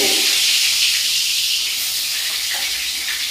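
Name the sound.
brinjal (eggplant) deep-frying in hot oil, sizzling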